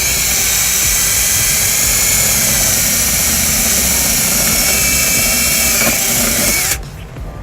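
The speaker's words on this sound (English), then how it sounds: "I'll go ahead and just drill out the other side here." A loud, steady high-pitched power drill whines continuously, grinding through the metal of a 2008 Kia Sorento without pause, then cuts off abruptly near the end.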